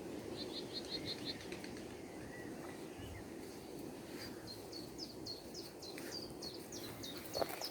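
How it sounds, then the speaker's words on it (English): A chiffchaff sings in bramble scrub on a countryside walk in Cheshire, a faint repeated series of thin chirping notes at a distance, heard twice amid steady outdoor background noise. "Chiff chaff singing."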